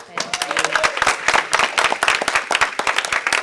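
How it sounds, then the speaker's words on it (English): Audience applause at a civic engagement event on Latinx communities, with distinct individual claps from a modest crowd in an uneven, lively patter, and a voice briefly heard at the start. "Let's give her a round of applause"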